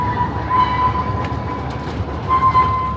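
Loud, continuous rumble of a moving train carriage at Pleasure Beach Blackpool, with a thin metallic squeal from the wheels rising and fading twice.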